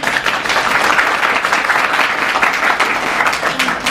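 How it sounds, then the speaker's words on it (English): Steady, loud round of applause from an audience at a sorority event, dense continuous clapping with no gaps, brief speech-like murmur mixed in. "Let's give her a round of applause."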